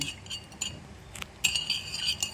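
A utensil clinks lightly against a bowl while pomelo salad is stirred with fish sauce and sugar, giving quiet, scattered taps and a brighter run of clatter near the end.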